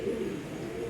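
Pigeons coo steadily near a racing-pigeon seller's stall, where birds are kept in pairs; low, continuous, rounded cooing with no speech over it.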